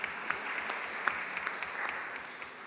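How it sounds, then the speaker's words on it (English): Audience applause at a school business idea event, moderate clapping from a small crowd at medium distance, steady with scattered sharper claps, no talking. "so applaud again"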